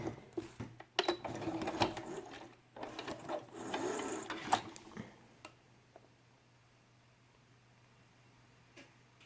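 A sewing machine stitches over felt in quick mechanical bursts with pauses between runs, moderately loud up close in a quiet room, then the motor stops and only faint low hum remains.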